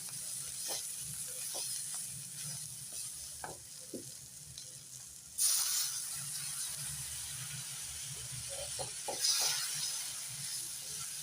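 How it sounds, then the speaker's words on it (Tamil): Chili powder stirred into a kuzhambu in a pan with green cluster beans, a soft steady sizzle under repeated scraping and clinking of a spoon against the pan, with a couple of brief louder bursts of frying. "குழம்பு மிளகாத்தூள் வந்து போட்டு நல்லா வந்து கிண்டிக்கிங்க"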